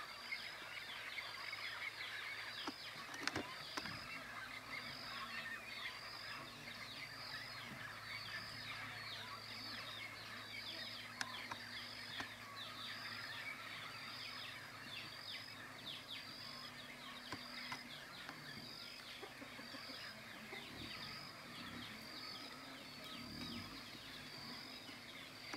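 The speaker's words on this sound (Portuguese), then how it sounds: "Aqui estou gravando papagaios ali, ó. Ó, mais um bando deles ali, ó." A flock of parrots calls from a forest in the countryside, a continuous distant chatter of repeated squawks that carries faintly and steadily throughout without any talk.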